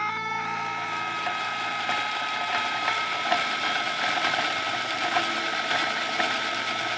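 An Electric Eel Wheel spinning wheel running in reverse, giving a steady mechanical whir with a tonal hum and fine ratcheting clicks throughout, close and unchanging with no talking.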